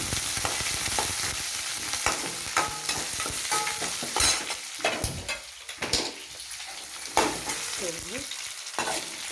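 Curry leaves and onion frying in a hot tempering pan, a steady loud sizzle broken by repeated stirring scrapes and clatters throughout, with no talking.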